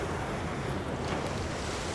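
Ocean surf rolls and hisses in a steady broadband roar, with wind buffeting the microphone. It is loud and continuous, with no voices.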